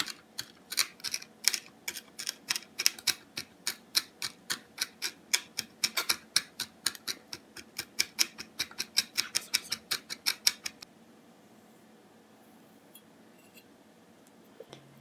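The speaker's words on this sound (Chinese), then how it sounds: "我们来把刚才炸好的花椒和辣椒切碎。" A knife chops crisp fried Sichuan peppercorns and dried chilies on a board in fast, even, rhythmic strikes that run for about ten seconds and then stop, leaving near silence.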